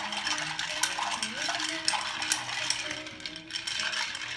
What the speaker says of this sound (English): And then we're going to stir this all together.